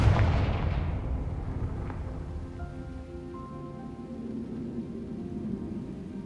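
Confringo blasting spell in Hogwarts Legacy, a single booming blast with a crackling burst that fades into a sizzling, rain-like rumbling tail.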